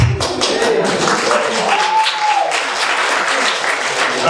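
Party guests at a 90th birthday celebration clap steadily together, a dense close round of applause lasting throughout with a faint tonal whistle-like sound partway through.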